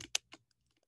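Typing on a computer keyboard: two or three quick, close key clicks in under a second, alone with no talking.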